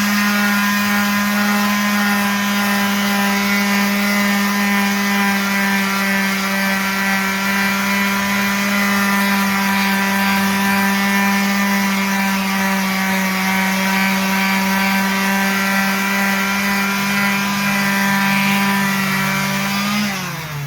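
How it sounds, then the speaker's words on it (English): A rotary sander grinds curb rash off a 2023 Dodge Durango alloy wheel, a loud steady motor whine holding one pitch for about twenty seconds before spinning down at the end, with no talking. "let's bust out our rotary sander"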